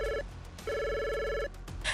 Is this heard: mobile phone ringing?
yes